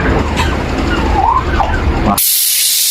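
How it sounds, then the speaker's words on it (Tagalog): Air vents loudly from a CO2 tank under repair in a continuous close hiss, with a faint squeaky tone wavering through it before the sound shifts abruptly to a brighter, thinner rush. "Discharge natin ng hangin at babaklasin natin to."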